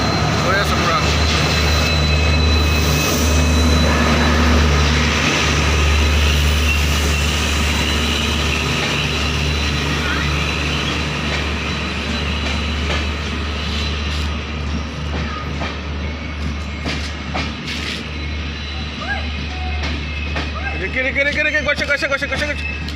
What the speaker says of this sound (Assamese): ডাঙৰ দীঘল ট্ৰেইন বন্ধুসকল এইটো চাওক হৈ আছে পূৰা